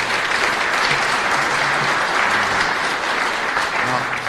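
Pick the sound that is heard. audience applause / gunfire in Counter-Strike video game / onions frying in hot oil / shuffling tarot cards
audience applause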